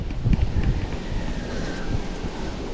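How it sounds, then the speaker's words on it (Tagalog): Strong wind buffets the microphone outdoors, a steady, loud rumbling roar with gusty low thumps and no talk. "lakas ng hangin"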